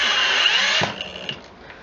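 A Milwaukee FPD2 Fuel cordless drill whirs loudly at steady high speed for most of a second, then cuts out and winds down, leaving faint mechanical ticks close by.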